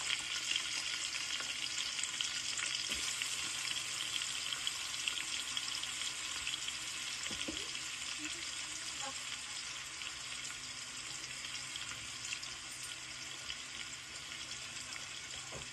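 Onions and green chillies sauté in hot oil, a steady close sizzle running throughout with a few soft scrapes of stirring, no voices.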